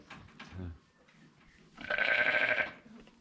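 A sheep gives a single loud, drawn-out bleat close by, following a few quieter sounds and a brief low thump.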